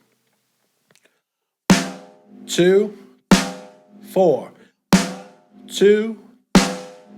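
Four evenly spaced strikes on a drum, each one ringing out and decaying over two counts, with a voice counting aloud in the gaps between hits.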